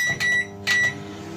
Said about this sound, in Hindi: अब इसे मैं पैनासोनिक माइक्रोवेव ओवन में रखूँगा